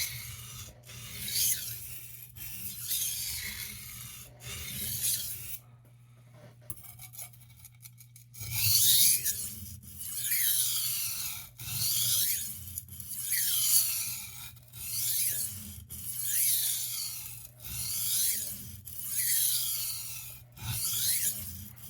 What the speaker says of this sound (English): cutting the bevel in so that I can get on with the sharpening